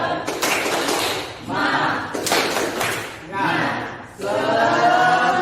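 A classroom of students claps a rhythmic spirit chant in three loud bursts of claps and voices, separated by short quieter gaps.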